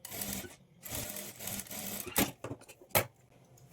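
Sewing machine with a single foot stitching thread piping for a scallop blouse sleeve, short bursts of rapid close-up whirring separated by pauses and a few sharp clicks near the end.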